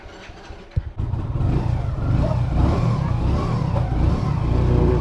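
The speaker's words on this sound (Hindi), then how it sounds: "Bike start." A motorcycle with a recently repaired speedometer starts up after a brief click, then its engine settles into a steady, close, rumbling idle.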